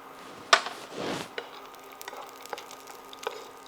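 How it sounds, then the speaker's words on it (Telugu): Cashews and raisins fry in hot ghee in a pan, with a soft, steady crackle broken by a few sharp clinks and scraping stirs, all fairly quiet and close. "ఫస్ట్ కొంచెం గీ వేసి డ్రై ఫ్రూట్స్ వేస్తున్నాను."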